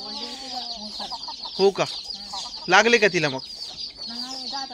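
A large farmyard hen clucks in short, uneven runs close by, with a couple of louder squawking bursts in the middle, while people talk over and between the calls.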